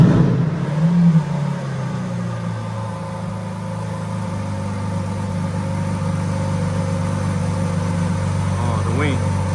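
Lamborghini Countach LPI 800-4 engine firing up with a short burst, then settling into a steady, deep idle drone that holds close and even for the rest of the clip.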